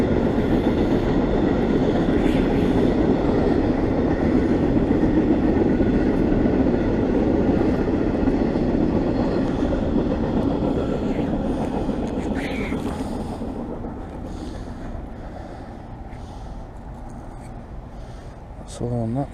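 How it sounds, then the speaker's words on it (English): A train passing near a river bank, its deep rumbling roar and rolling wheel noise loud and steady at first, then slowly fading as it moves away. "That train looks like it's come from Alabama."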